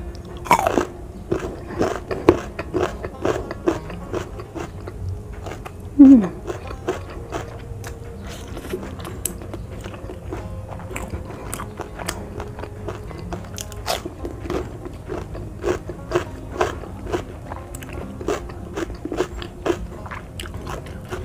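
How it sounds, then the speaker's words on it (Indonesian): Raw jengkol beans being bitten and chewed close up during a mukbang, heard as repeated crisp crunches and wet chewing over about twenty seconds, steady and rhythmic, no talking. "Pertama kita cobain jengkolnya guys."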